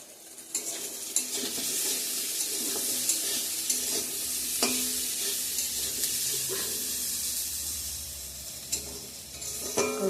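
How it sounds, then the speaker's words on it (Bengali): Pumpkin slices fry in hot oil with a steady bright sizzle, broken by occasional scrapes and clinks of a utensil against the pan. "কুমড়া ভাজা করে নিচ্ছি"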